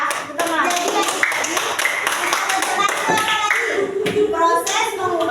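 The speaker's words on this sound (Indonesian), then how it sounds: "beri aplaus untuk Alvaro yang sudah menyimpulkan" A class applauds a student named Alvaro, with brisk scattered clapping from many hands filling the room and children's voices chattering underneath.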